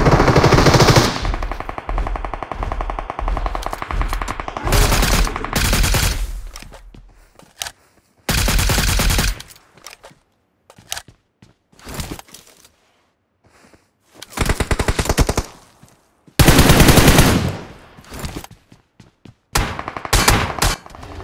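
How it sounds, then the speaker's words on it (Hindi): Automatic gunfire from PUBG Mobile on the Livik map, rapid bursts of machine-gun fire in several clusters separated by short quiet gaps, loud and close with some more distant volleys. "अब यहाँ पे मुझे हर साइड से गोलियां पा रही होती है"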